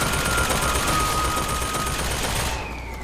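Continuous rapid gunfire in the video game Bioshock Infinite, a dense, loud automatic burst that holds steady and then fades slightly toward the end.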